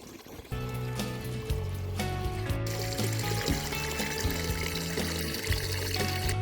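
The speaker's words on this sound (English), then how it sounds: "It's going to fill that tube up, and it's going to go that way, out the pipe, into the pond." Water pumped through a tube and out of a pipe into a garden pond, a steady loud gushing splash that runs without a break under a low, humming pump drone.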